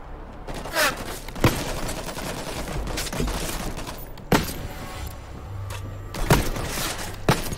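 Machine gun fire from World War Z: Aftermath comes in repeated bursts with sharp, loud single shots between them over a steady background of game noise.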